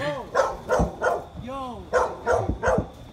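A big dog barks in repeated loud, close barks with some whimpering pitch, interleaved with people talking excitedly near a skate spot.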